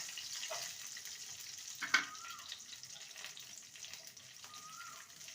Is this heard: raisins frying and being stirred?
yes